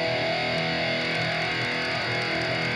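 An electric guitar played through a Rocksmith tone with boost and distortion, a dense, loud, saturated wall of sustained chords that stays constant throughout with no talking.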